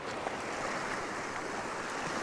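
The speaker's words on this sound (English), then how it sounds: "And these waves crashing over the rocks add a bit of interest." Waves crash and wash over coastal rocks during a storm, a steady broadband roar of surf with wind, continuous and fairly distant, no voices.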